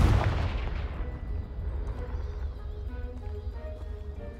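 The Confringo blasting spell in Hogwarts Legacy goes off as a single loud blast with a deep boom, then fades into a low rumbling tail.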